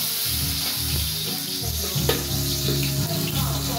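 Garlic and onion sizzle and fry in a pan as aromatics for a bitter melon (ampalaya) omelette, a loud, continuous close sizzle with occasional stirring clatter.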